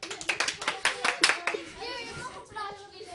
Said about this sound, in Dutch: Applaus voor Nida.